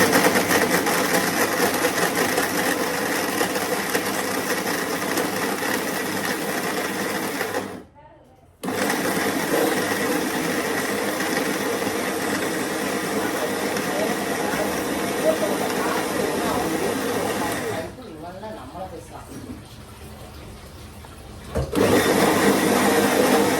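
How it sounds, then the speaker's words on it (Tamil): Mixer grinder whirring steadily as it grinds coconut, green chili and salt, loud and continuous with two short pauses between runs. "முதல்ல இதை நம்ம அரைச்சி எடுப்போம்"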